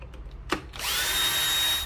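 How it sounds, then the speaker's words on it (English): An electric screwdriver removing the screws from a light switch, a short click followed by a steady whirring motor run of about a second, close and clear. "Grab your electric screwdriver and take off the screws."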